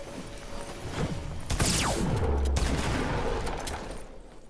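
Gunshots in Fortnite, a rapid burst of loud close shots over a steady background of game noise, with a falling whistling sweep and mechanical clatter continuing afterward.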